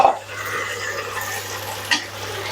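Chicken sizzles and frying in a pot with dark browned onions for Sindhi biryani, a steady soft crackle with a spoon scraping and stirring, and an occasional clink of metal.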